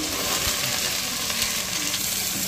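Curry leaves and green chillies sizzle in hot sesame oil, a steady close crackling fry with no voices.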